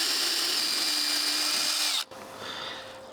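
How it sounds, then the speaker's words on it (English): A power drill bores out a rivet on the sliding door handle of a Toyota Proace van, a loud high whine for about two seconds that cuts off sharply, leaving a quieter rattling hum. "if I drill that, this flat bit should detach and come off"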